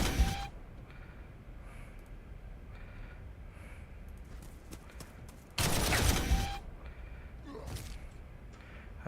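Video game gunfire from units shooting in Warhammer 40K Armageddon, with short scattered shots and a loud sustained burst of fire in the middle, then a few trailing shots.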